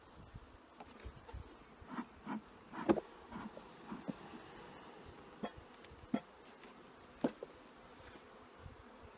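Honeybees buzz steadily in an opened hive at the feeder during a natural beekeeping check, a dense hum broken by sharp individual bee passes zipping close to the microphone.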